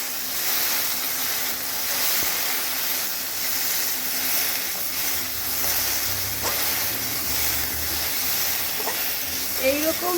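Okra sizzles steadily in a hot pan with turmeric and salt, a constant hissing fry that fills the whole stretch, with a few faint clinks near the end.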